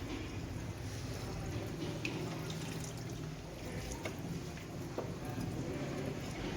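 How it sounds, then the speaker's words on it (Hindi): Water drains and trickles steadily from spinach being strained in a home kitchen, a soft continuous pouring and splashing sound with no talk. "पालक को अब हम पानी से निकाल लेंगे, स्ट्रेन करेंगे इसको।"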